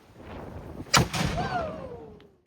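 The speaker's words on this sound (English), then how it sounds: "this wouldn't be St. Augustine without another cannon firing" A historic cannon fires at St. Augustine with one sharp boom, followed by a fading rumble and a distant whistle, heard faintly amid crowd noise.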